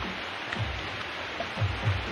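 Rain falling outdoors in a rural spot, a steady soft hiss of drops with a few brief low thumps, fairly quiet and with no voices.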